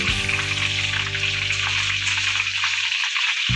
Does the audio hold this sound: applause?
no